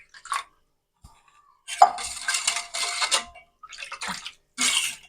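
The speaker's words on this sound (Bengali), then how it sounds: "এবার আমি এর মধ্যে আরো খানিকটা জল মিশিয়ে দেবো।" Water is poured and stirred into tangy tamarind water in a bowl for fuchka, giving bursts of splashing and clinking with short pauses between, close and fairly quiet.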